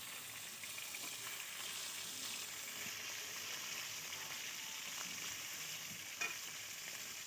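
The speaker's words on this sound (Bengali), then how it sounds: "এইভাবে সব মাছগুলো আমি ভেজে নেবো।" Pangas and tengra fish frying in hot oil in a home kitchen, giving a steady, close crackling sizzle that carries evenly throughout with no voices.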